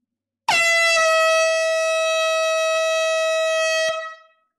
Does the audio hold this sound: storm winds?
no